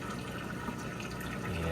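A Kenmore washing machine filling with water for its rinse cycle, a continuous rushing, splashing inflow at moderate level with a steady low mechanical hum beneath.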